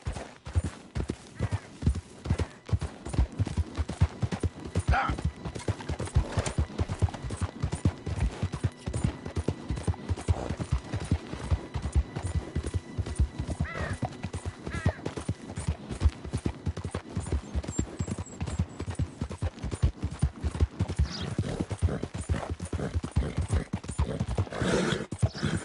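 A horse being ridden clip-clops steadily and close by, its dense rapid hoofbeats running continuously throughout without any talk.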